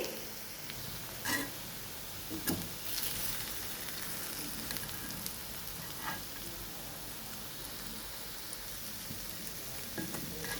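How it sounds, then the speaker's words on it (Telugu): Raw banana pieces cook in a thick covered pan, giving a soft, steady sizzle and faint crackle at low volume with a few brief stirring clicks, continuous and without talk. "ఉడుకుతుందండి, చూడండి. అరటికాయ బేగే ఉడికిపోద్దండి."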